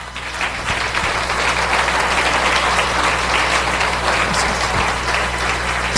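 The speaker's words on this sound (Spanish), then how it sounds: "Dese un buen aplauso usted mismo" Applause from a church congregation, steady and full, many people clapping together at an even level with a low background hum underneath.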